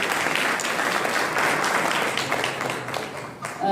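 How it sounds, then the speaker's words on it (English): Audience applause inside a prayer hall at a temple gathering, dense and loud clapping from many hands that holds steady, then dips slightly before rising again at the end. "Big round of applause for our upcoming Sunday school."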